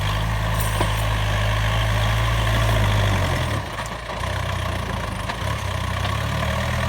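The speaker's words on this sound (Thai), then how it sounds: "ยันมานะครับรถไถยันมานะครับ" A 45-horsepower Yanmar farm tractor idles in a Thai farm setting, its steady low engine drone loud and close, briefly dipping midway before settling back into an even rumble.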